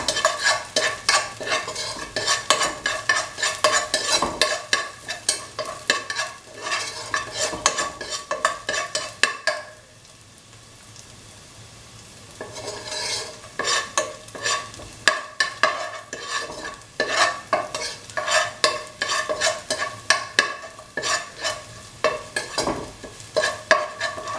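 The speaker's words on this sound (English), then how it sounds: "saute the onions and the cardamom together" Onions and cardamom seeds sauteing in a pot for semolina kheer, with repeated sharp scrapes and clinks of a spoon against the pan over a steady sizzle, pausing briefly midway before the stirring resumes.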